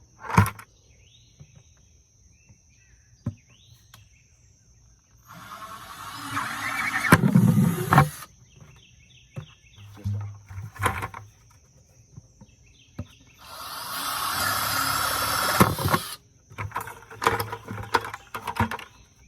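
A drill bores a hole through a plastic 5-gallon bucket in two sustained, loud bursts of whirring and grinding, separated by quieter handling clicks and knocks.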